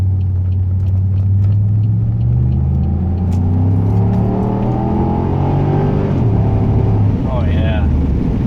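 Deep, bassy exhaust of a 2008 Pontiac Grand Prix GXP with a Thrush welded muffler, rising and falling through several revs as it accelerates in gear, loud and close, ending in a brief higher whine.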